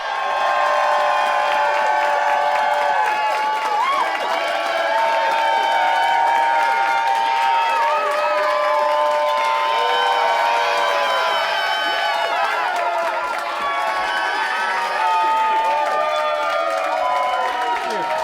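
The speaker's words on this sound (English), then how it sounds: "Please give a round of applause to Sammy Farid!" A comedy club audience applauds and cheers as a comedian takes the stage for his debut special, a loud, dense and sustained wall of clapping, whoops and shouts that holds steady throughout.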